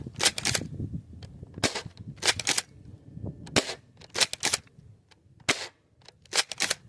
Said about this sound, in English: Alright, we got Nerf darts. Go.